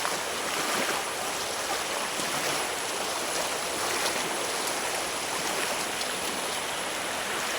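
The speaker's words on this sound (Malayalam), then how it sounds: "ഇവിടെ നല്ല ഒഴുക്ക് പോലത്തെ ഫീൽ ചെയ്യൂട്ടോ കാരണം വെള്ളം ഇവിടെ തള്ളണ കാരണം" A loud, continuous rush of fast-moving floodwater roars steadily throughout, a dense unbroken churning with no voices, in a flooded area of Thrissur, Kerala.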